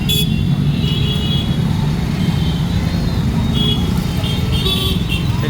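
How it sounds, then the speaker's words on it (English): Dense Indian road traffic rumbles steadily around a moving car, with engines and occasional short horn toots sounding close and continuous. "The kind of stupidity and the flow that is Indian traffic."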